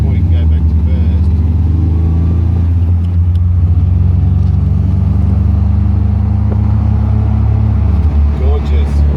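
An MGB car engine pulling under acceleration, a loud low rumbling drone heard from inside the car with a rising pitch at one point, while people talk over it.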